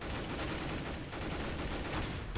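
Shotgun fire in the video game CSGO, a quick cluster of fairly faint, close-spaced shots and crackling bursts over a couple of seconds.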